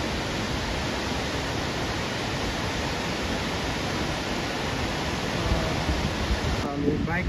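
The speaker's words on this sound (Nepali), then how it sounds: "सो दामी वाटरफल" Waterfall near hot springs on the Kathmandu to Tibet border route, a dense, steady rushing roar of falling water filling the whole clip, loud and unbroken, with a brief faint disturbance near the end.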